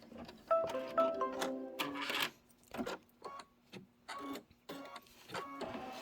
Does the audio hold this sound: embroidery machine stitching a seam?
yes